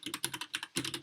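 Rapid keystrokes clatter on a computer keyboard in a quick, continuous burst, close up and fairly quiet, with no voices.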